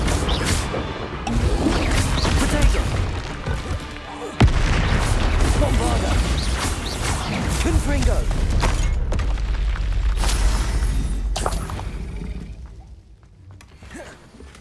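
Bombarda blasting spell from Hogwarts Legacy during a fight with Ranrok the Kinslayer, a dense roaring barrage of booms and crashes with mechanical clatter, loud and sustained, dropping off near the end.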